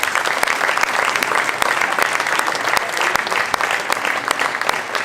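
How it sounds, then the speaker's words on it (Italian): An audience at an outdoor poetry festival performance of songs applauds, sustained dense clapping with a few sharper individual claps standing out near the front, loud and continuous throughout. "credo che meriti ancora un applauso"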